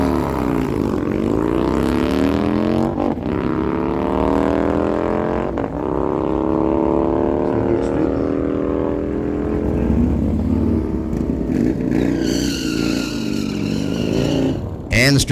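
A 2011 Harley-Davidson Street Glide and a 2021 Harley Street Bob drag race at a dragstrip, loud engines rising in pitch through repeated gear shifts, with a track announcer talking over the roar.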